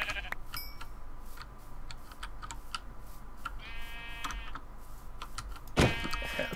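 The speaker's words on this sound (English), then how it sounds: "There's a sheep here." Minecraft sheep bleats, one short and one longer, heard over quiet keyboard clicking, ambient game noise and light background hum.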